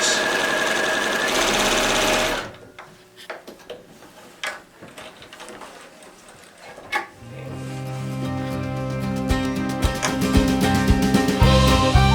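A sewing machine back-stitches a grocery bag strap, its rapid mechanical whirr starting loud, pausing into quieter clicks and handling, then resuming in steady bursts near the listener.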